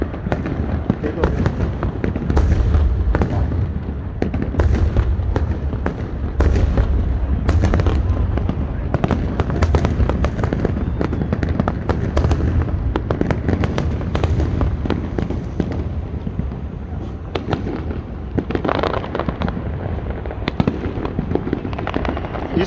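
A fireworks display at Palm Jumeirah in Dubai, a long loud stream of crackling bursts and booms rolling on without pause, with someone talking over the display throughout.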